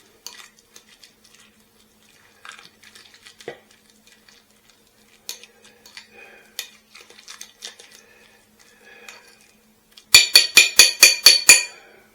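Garlic butter mixed in a bowl for escargot, scattered soft scrapes and taps through most of the stretch, then a fast run of about eight sharp, loud clinks of a utensil against the bowl near the end.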